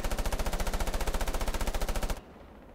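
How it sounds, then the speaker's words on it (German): A fast, even burst of automatic gunfire in the multiplayer shooter Moving Hazard, about two seconds of rapid regular shots, moderately loud, then stopping abruptly into quiet background. "hast du jetzt von der anderen Seite auf mich geschossen?"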